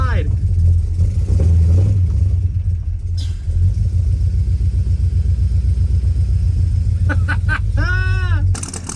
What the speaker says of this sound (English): This right here is the first time this car is driven out under its own power in 30 years.